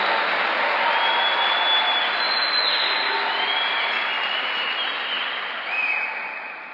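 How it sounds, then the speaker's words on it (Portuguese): A large church congregation at a Sunday service applauds steadily and enthusiastically, a dense wash of clapping that holds for several seconds before tapering slightly. "Pode aplaudir com alegria, porque isso é uma verdade."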